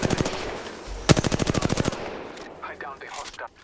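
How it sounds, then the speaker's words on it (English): Automatic gunfire in the shooter game Apex Legends, loud rapid bursts in two tight volleys, followed by quieter game sounds and faint chatter. "They're shooting at me."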